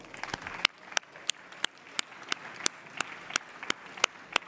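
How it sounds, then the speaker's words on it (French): An audience at a Paris e-marketing conference claps at a sparse, steady pace, with individual sharp hand claps standing out over a quiet room for a few seconds. "Sous vos applaudissements."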